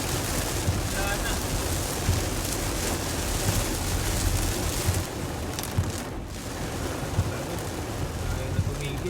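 Heavy rain pours in a dense, constant roar on a road in Manila amid traffic, with a steady wash of noise throughout.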